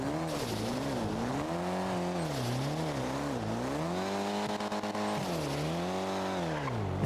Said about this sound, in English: I really like the sound of this car.